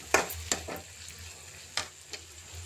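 A spoon stirring turmeric into green and dried red chillies frying in a pan, four or five sharp scraping strokes over a soft steady sizzle, close up, with no voices.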